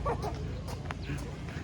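A small dog yips and barks in short bursts close by, with a voice and household background noise running underneath.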